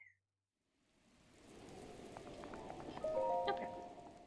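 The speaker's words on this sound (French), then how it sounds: "Donc là, il pleut" Rain falls in the video game The Legend of Zelda: Breath of the Wild, a soft hissing patter fading in after a brief silence and holding steady, with faint in-game tones near the end.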